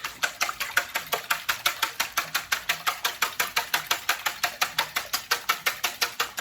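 Milk being beaten with a whisk for a Brussels sprout quiche, a fast, steady run of rhythmic metallic taps against the bowl at close range, with no talking.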